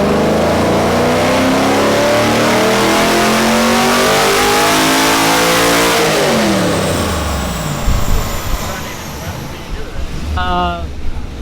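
A turbocharged BMW engine revving hard on a dyno, a loud sustained rising roar that peaks and then drops off into idle rumbling with a few brief sharp noises at the end.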